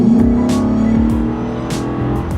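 A naturally aspirated Ford Raptor's engine revs under light throttle, a loud, close rumble with a rising tone and a few sharp bursts, easing slightly toward the end.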